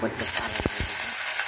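Onion and spices fry in a pan with a steady broadband sizzle. A few soft stirring knocks come through, and a voice speaks briefly over the cooking.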